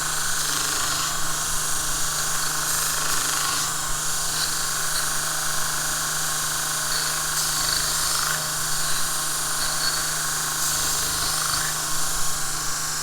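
A Vevor 1x30 belt grinder deburring metal gives a loud continuous whirring drone that stays steady throughout, with faint scraping flickers as the piece touches the belt.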